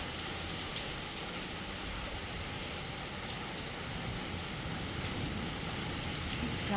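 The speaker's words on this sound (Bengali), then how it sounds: "খুব ভালো বৃষ্টি হচ্ছে, মানে খুব জোর" Heavy rain during a thunderstorm, a steady, even hiss of falling water that stays faint and constant throughout, with no talking.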